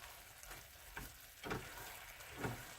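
Breaded orange chick'n fries in a pan over medium heat, giving a steady close sizzle with a few louder crackling bursts, and no talking.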